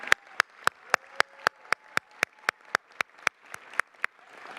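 At a charity roast benefit dinner, crisp claps ring out in a steady, evenly spaced rhythm, about seventeen sharp beats in a row, fairly quiet and alone without talk.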